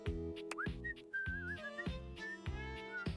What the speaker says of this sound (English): He's whistling when you walk up on him